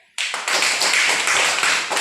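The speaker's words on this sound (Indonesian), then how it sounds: "tepuk tangan untuk teman kita ini" A class of children claps for a classmate in a schoolroom, a dense burst of many small hands starting abruptly and holding steady for about two seconds, close and fairly loud with no talking.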